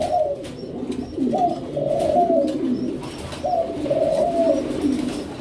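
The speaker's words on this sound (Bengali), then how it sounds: "এটা রেড কুকা, মানে রেড অ্যারাবিয়ান কুকা।" A Red Arabian fancy pigeon at a pigeon farm coos close by in repeated rolling phrases, with a few faint chirps in the background.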